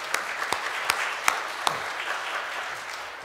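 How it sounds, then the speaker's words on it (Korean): A church congregation at a Sunday service claps to welcome a visitor, a moderate, even patter of hands in a hall with a few distinct sharp claps near the start that fade into a steady ripple. "박수로 환영하겠습니다"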